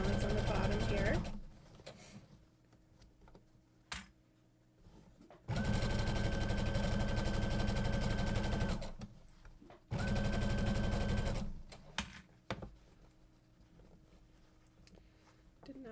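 A sewing machine runs close and loud along the bottom seam of a tote bag with a 3/4 inch seam allowance. It sews in three bursts of a few seconds each, with pauses where a person talks.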